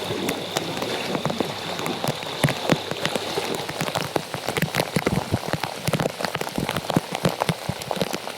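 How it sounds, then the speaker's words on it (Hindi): Torrential monsoon rain in Ahmedabad, Gujarat, pouring steadily as a dense, loud hiss with sharp drops spattering hard surfaces close by, and no voices. "गुजरात का अहमदाबाद आज मूसलाधार बारिश से बेहाल है।"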